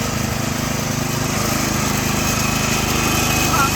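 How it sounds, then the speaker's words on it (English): Extremepower motorized tracked wheelbarrow with its small engine running steadily, a loud continuous droning hum close by without a break. "this is a motorized, essentially a motorized wheelbarrow"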